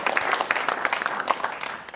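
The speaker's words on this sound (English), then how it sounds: "round of applause for Matt" A live audience briefly applauds Matt Yeoman, a former Socceroo, at a football talk show; a short burst of distinct claps from a small group, fairly close.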